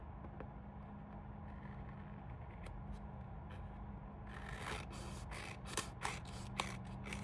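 Quiet snips and scrapes of cutting at an angle while making a DIY palm and plumeria craft, a few soft isolated clicks early, then a denser run of cutting and rubbing sounds toward the end, with no voices.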